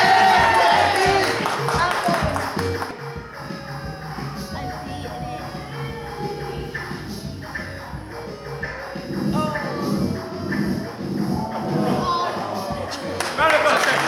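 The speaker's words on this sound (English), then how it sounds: "Round of applause" Live gaming show audience clapping and cheering in a studio crowd, a dense patter of hands swelling at the start and again near the end, with shuffling and voices in the room.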